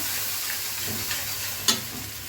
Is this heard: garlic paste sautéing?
yes